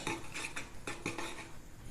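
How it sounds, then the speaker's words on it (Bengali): A hand whisk clinks against a bowl as icing sugar and egg are mixed for biscuit dough, giving a few quick metallic taps and scrapes close up, with no talking. "দিয়ে একটা হ্যান্ড উইক্স দিয়ে আমি ভালোভাবে মিশিয়ে নিব।"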